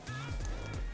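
A horse being prepared and handled up close, with a short snort or whinny-like call and some clopping movement, partly mixed with a voice.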